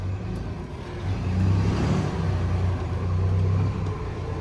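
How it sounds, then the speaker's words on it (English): A Peterbilt truck's engine rumbles steadily and swells slightly as it revs while maneuvering, a continuous low, loud drone close by. "Back in the Peterbilt, just got her spun around."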